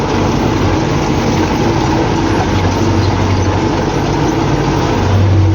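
An MTZ-82.1 tractor pulling a DAN 2.5 disc harrow across wheat stubble, a loud steady engine drone with rumbling, rattling implement noise running continuously without pause.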